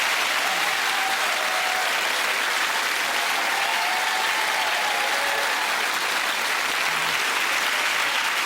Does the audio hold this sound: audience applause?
yes